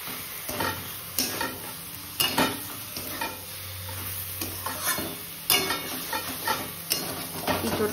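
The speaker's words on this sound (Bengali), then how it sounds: "এবার এর মধ্যেই সেদ্ধ করে রাখা এঁচোড়টাকে দিয়ে দেব। ভালো মতো কষিয়ে নেব।" Boiled green jackfruit is sautéed in a pan, with repeated bursts of spatula scraping and clatter against the metal every second or two over a low continuous sizzle, close up and wordless.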